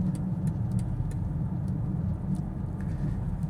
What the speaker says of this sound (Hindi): इंजन इसका कमाल का है, 3 लीटर इनलाइन 6 सिलेंडर इंजन।